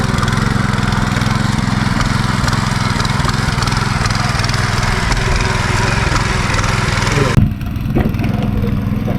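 A tractor runs in a paddy field during rice planting in Konkan, its engine chugging steadily and loud, then dipping briefly near the end before resuming.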